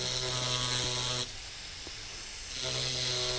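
A dental handpiece bur runs at low RPM on a composite veneer, giving a steady high-pitched whine that cuts out briefly in the middle and then resumes, close and alone.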